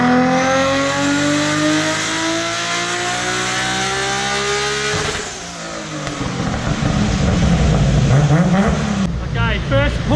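A Nissan GTR on a dyno makes a loud, sustained revving climb under heavy load. The pitch rises steadily for about five seconds, then the engine lets off, burbling and crackling as it winds down.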